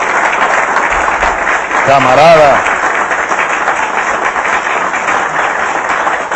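Studio audience applause for Fidel on the Venezuelan TV program Aló Presidente, a steady dense wash of clapping that lasts throughout, with a voice briefly calling out over it.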